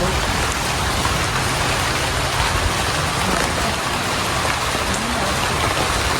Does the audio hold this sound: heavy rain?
yes